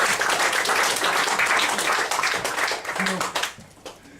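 An audience at a magic show applauds a volunteer, a burst of clapping that is loud at first, then thins and fades toward the end, with a voice briefly audible over it.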